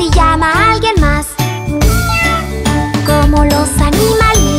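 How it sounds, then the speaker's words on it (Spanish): A kitten's meows run through a loud children's song, the bright, rising cries mixed into music and jingling percussion. "¿Cómo hace el gatito?"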